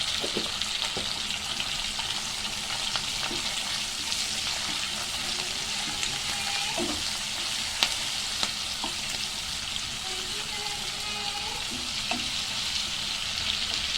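Ginger garlic paste frying in oil in a pan for a bitter gourd tamarind stew, heard as a continuous, even sizzle with occasional soft stirring taps and scrapes throughout.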